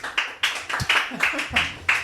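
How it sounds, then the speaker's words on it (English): Hands clap steadily in a quick, even rhythm at a live interview event at Le Club, each clap crisp and close, with voices talking alongside. "Gonna edit out that clapping"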